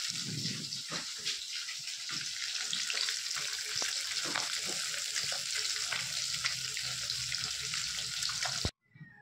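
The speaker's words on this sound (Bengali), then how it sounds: "মাছগুলো ভাজতে শুরু করে দিয়েছি।" Fish frying in hot oil in a kadai, a steady close crackling sizzle with some stirring, running continuously before cutting off abruptly near the end.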